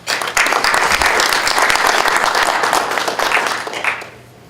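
A round of applause for sponsors at a fall fundraiser, the room breaking into loud, dense clapping that stays strong for about three seconds before tapering off into quiet.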